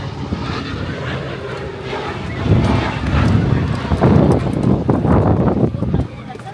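Cabin drone of a 4.9-year-old ATR 72 turboprop heard from a window seat: a broad, steady engine and airflow roar that swells slightly midway and stays loud throughout, with no talk.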